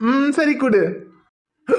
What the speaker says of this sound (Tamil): அப்பாக்கு விக்கல் வந்துருச்சு